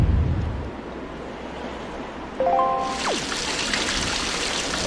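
Water scooped into a bottle in The Legend of Zelda: Wind Waker, a short bright bubbling slurp with a rising gurgle over steady ambient game sound and background music, no talking.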